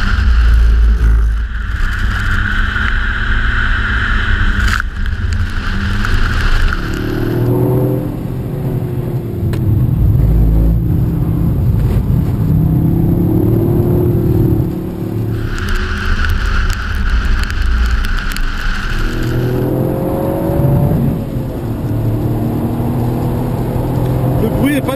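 A three-cylinder car engine drives laps on a track, revving up and down through gears in a raspy surging note, with people talking over it throughout.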